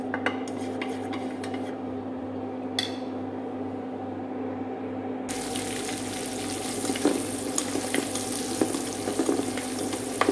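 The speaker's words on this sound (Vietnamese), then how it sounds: "Ta bắt chảo, bắt nồi lên rồi bỏ hành, bỏ tỏi, bỏ sả vào xào nha các bạn." Shallots, garlic and lemongrass stir-fry in hot oil in a pan, producing a dense, continuous sizzle with scattered clinks and scrapes of a utensil, rising sharply partway through and staying close and loud without talk.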